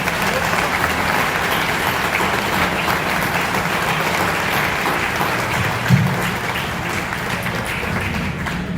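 Dense, sustained audience applause fills a banquet hall at the USS Cooperstown (LCS 23) commissioning chairmen's dinner in New York City, with steady clapping continuing throughout and a single brief louder thump near the end.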